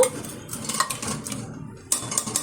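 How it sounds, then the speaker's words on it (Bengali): Peeled, washed potatoes go into a pressure cooker in a home kitchen, giving metallic clinks and knocks against the pot, with a sharp clatter near the end and quieter handling in between. "এখন দিয়ে দিচ্ছি প্রেশার কুকারের মধ্যে তিনটে সিটি দিয়ে নেব"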